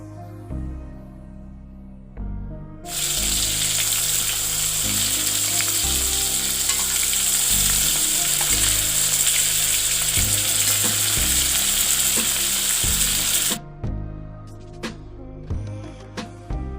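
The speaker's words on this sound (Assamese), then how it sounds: "মাছকেইটা 2-3 মিনিটমান এনেকৈ ভালদৰে ভাজি ল'ম।" River lobsters frying in hot oil in a wok, a loud, dense sizzle that starts abruptly and holds steady for about ten seconds before cutting off, with a few clinks and stirring knocks around it.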